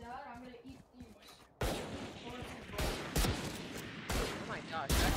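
Rapid gunfire bursts from the video game Valorant, loud and dense with repeated shots packed together, beginning after a quieter stretch of chatter and continuing to the end.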